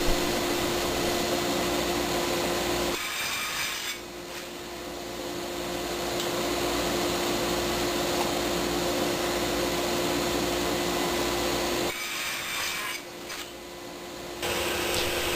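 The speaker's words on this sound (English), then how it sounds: "Next I use my table saw sled to cut the slats to length." A table saw with a sled cuts wooden slats to length, three at a time, giving a loud, continuous motor whine that dips twice briefly as the blade passes through the wood.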